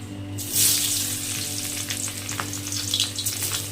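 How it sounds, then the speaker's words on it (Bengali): Teasel gourd (kakrol) pieces fry in hot oil, giving a steady, close sizzle with a burst of crackling as they go into the pan, plus occasional stirring scrapes over a low kitchen hum. "তেল গরম হয়ে গেছে, আগে কাঁকরোলগুলো ভেজে নেব ভালো মতো করে"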